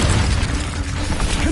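A Confringo spell from Hogwarts Legacy bursts into a loud, close fiery explosion, a brief crackling blast with a rumbling low-end tail.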